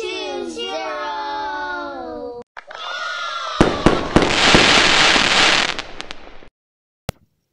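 A fireworks celebration effect from the Wheel Math Wheel Fun app, a burst of crackling, popping explosions that swell loudly for a few seconds after a tonal melodic passage, then fade, with one last sharp pop.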